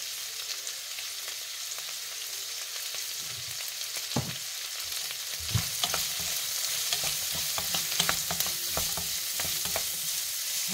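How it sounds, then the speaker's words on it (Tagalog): Pancit bihon and canton noodles fry in a pan with pepper and salt while being stirred. A steady sizzle runs throughout, with soft scraping and clacking stirring strokes that grow busier in the second half, close up and without talking. "Halo lang ng halo hanggang sa medyo maluto na siya."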